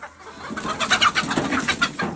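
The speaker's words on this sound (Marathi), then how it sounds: "शिव एक बी कोंबडी पकडल्या जात नाही रे तुला." Chickens squawk and cluck in quick, agitated bursts close by, a flurry of excited calls as they scramble.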